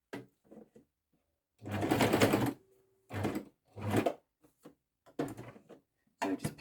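A sewing machine stitches the edge of a needle felting mat in several short bursts of rapid whirring, separated by brief pauses, close up and clear.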